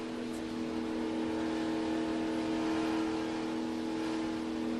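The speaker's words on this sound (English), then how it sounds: "I'd get up to the rev limiter and just hang right there" A sports car engine is held just under the rev limiter, giving a steady, sustained high-rpm drone that stays level and moderately faint throughout with no talking.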